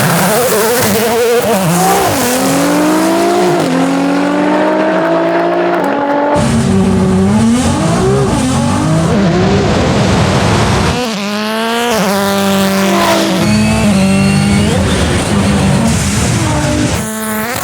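A 1,200 AWHP Nissan GT-R drag races Travis Pastrana's Gymkhana 2020 Subaru STI, engines screaming loud and close, rising through repeated gear changes with sharp shift breaks and climbing revs, no talking heard.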